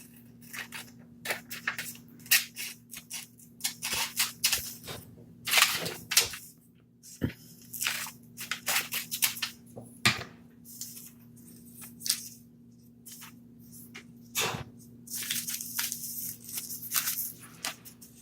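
Scissors snipping through a paper circle in a quiet room, a run of short crisp cuts in uneven bursts with pauses between, close and clear over a faint steady hum.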